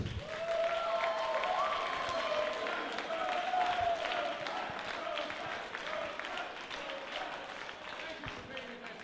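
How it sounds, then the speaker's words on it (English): Crowd applause at a wrestling event, sustained clapping from the audience with a voice speaking over it through much of the stretch, reverberant arena-like ambience. "Give Dick a round of applause"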